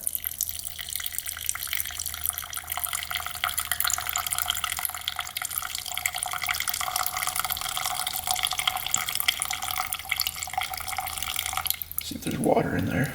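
Old gasoline from a Yamaha Banshee that sat 18 years in a barn pours out in a steady, close trickling stream for several seconds, ending with a brief splashing shift near the finish, with no talking over it.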